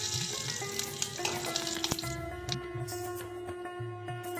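Whole spices (dried red chillies, bay leaf, cinnamon, cardamom, cloves and cumin) tempering in hot oil, a close crackling sizzle with a few sharp pops and utensil clinks, gradually settling, no speech.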